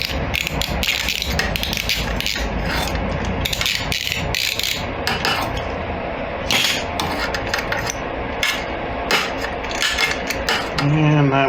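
Ratchet with a 12 mm socket and swivel loosening a bolt on a 450F dirt bike exhaust: close, rapid ratcheting clicks in repeated bursts with metallic taps and brief pauses.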